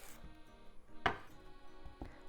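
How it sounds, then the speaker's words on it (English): A knife slices the top off an onion for meatballs, two sharp chops against a cutting board with softer handling sounds in between, close and quiet. "Onion, cut the top off."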